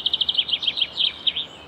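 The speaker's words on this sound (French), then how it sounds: "Le pinson des arbres." A common chaffinch sings outdoors by a river, a quick series of bright, high repeated notes that run down into a fast, descending flourish, fairly close and clear over a quiet background.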